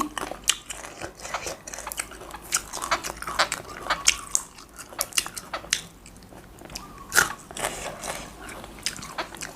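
Close, crunchy chewing and biting of spicy pounded Thai rice-noodle salad eaten with water spinach and leucaena shoots, with steady repeated mouthfuls and no talking.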